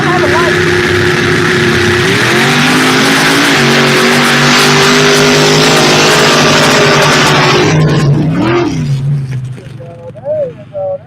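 Mud racing trucks at a race start in Gaston, South Carolina, with engines revving loud and close in a sustained, layered roar. The roar holds steady, then drops away near the end to rougher, fading engine sound.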